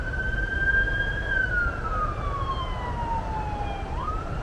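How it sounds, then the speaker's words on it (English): An ambulance siren wails with a long, slowly falling tone that then rises again, heard at moderate distance over low traffic rumble near the Vltava River in Prague. "ambulance."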